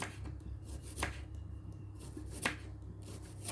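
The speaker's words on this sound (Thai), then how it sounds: "หอมแดงก่อนแล้วกันเนาะ หั่นไปเลยค่ะ" Knife chopping shallots into small pieces on a cutting board, a few sharp chops with quieter tapping between them, close and clear, with no talking.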